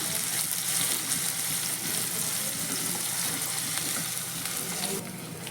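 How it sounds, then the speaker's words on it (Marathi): Chopped onion with asafoetida fries in a hot pan, a steady close sizzle with scraping stir sounds throughout, easing slightly near the end. "कांदा चांगला प्रकारे मऊ होईल अशा पद्धतीने आपल्याला त्या ठिकाणी हलवून घ्यायचं आहे"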